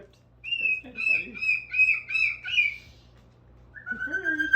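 Moluccan cockatoo calling while playing with a toy car: a run of loud, shrill, rhythmic squawks close by, a short pause, then a drawn-out harsh call.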